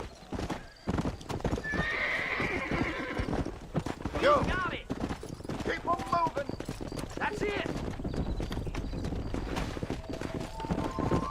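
A horse's hooves clip-clop steadily in Red Dead Redemption, with a couple of loud neighs and whinnies near the middle, while someone talks over the hoofbeats throughout.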